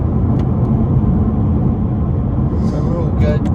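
Inside a BMW M6 on the road, a dense low engine and road rumble fills the cabin steadily and fairly loud, with a brief voice near the end.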